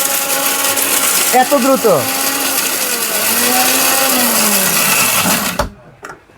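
A mixer grinder roars loudly and continuously while grinding turmeric, its pitch wavering as the load shifts before the motor cuts off abruptly near the end; a voice briefly speaks over the whirring.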